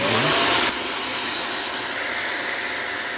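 A close, loud portable steam carpet cleaner's 16KPa vacuum suction motor hum runs steadily, with a brief louder surge at the start before settling into a constant whirring drone.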